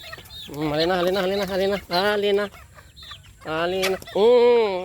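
Hens clucking close by, strong harmonic calls in several bursts, with a short spoken word among them.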